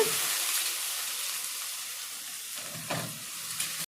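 Dried fish dropped into a pan of hot spiced oil for a fish curry, a soft steady sizzle with a brief stir or clatter near the end, fairly quiet and close, with no talking.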